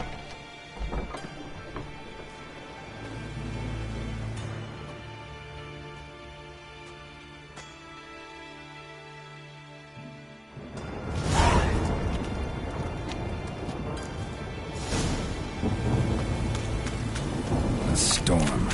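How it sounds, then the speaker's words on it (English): Heavy rain and rolling thunder in a Witcher 3: Wild Hunt storm, a quieter stretch giving way to a loud, dense downpour with thunder rumbles near the end, voices speaking over it. "A storm, damn it."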